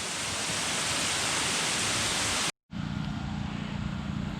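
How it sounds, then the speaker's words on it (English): A creek rushing down toward a hidden waterfall that feeds into Lake Cumberland makes a loud, steady roar of flowing water. It cuts out briefly, then continues at the same level. "There's the creek coming down to it again."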